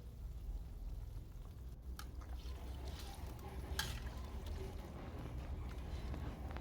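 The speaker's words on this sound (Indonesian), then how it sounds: "Ini nanti akan saya masak hingga airnya berkurang ya." Fish with pineapple in a sweet, sour and spicy sauce simmering in a pan, giving a steady soft bubbling hiss throughout with a few faint clinks, fairly quiet and without talk.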